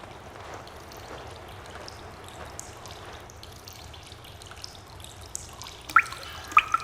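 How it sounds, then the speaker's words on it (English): Meltwater trickles and drips deep inside a mountain cave, a soft steady flow with a few sharper drops splashing loudly near the end. "It thaws and drips and splashes and flows"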